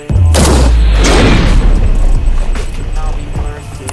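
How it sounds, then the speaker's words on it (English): An M1 Garand rifle fires an armor-piercing .30-06 round outdoors: a loud, close boom followed by a long rolling echo that fades over several seconds. "Gorgeous M1 Garand with armor-piercing 30-06"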